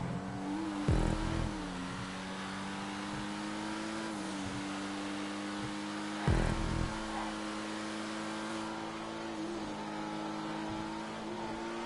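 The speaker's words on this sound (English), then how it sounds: "I'm not used to this car being so fast." Engine of a Coquette D10, the game's Corvette C8, revving steadily on the North Loop racing circuit in a video game, a constant hum with two short louder bursts, no talking.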